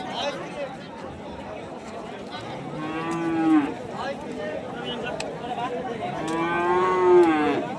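Cattle at a livestock market haat, including black cows, with two long mooing calls, the second louder and close, heard over steady crowd chatter and nearby talking.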